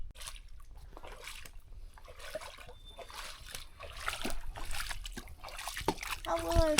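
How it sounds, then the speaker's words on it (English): Footsteps slosh and splash through shallow water on submerged two-plank bog boards along the Cranberry Lake 50 hiking trail, with irregular wet splatters and drips and a voice heard intermittently. "let's just carefully take our time and hike on the submerged boards"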